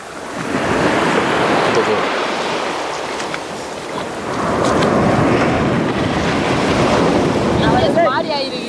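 Ocean surf washing onto a sandy beach where clams are being dug, a steady loud roar of breaking waves swelling and receding in two long surges with wind noise across the microphone.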